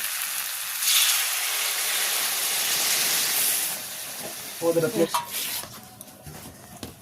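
Water is poured into a pan of sizzling fish curry masala with rohu and kohlrabi, setting off a loud hissing burst of steam that fades into quieter bubbling and a few clattering stirs near the end.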